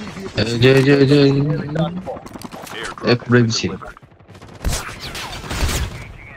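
Bursts of rapid gunfire in a video game break out in the last couple of seconds, following a stretch of excited talk from a player.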